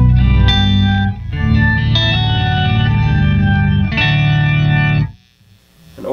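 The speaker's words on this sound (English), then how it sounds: "An organy sound." Electric guitar run through a POG effects unit for an organ-like tone, sustained chords ringing loud and steady for about five seconds before cutting off.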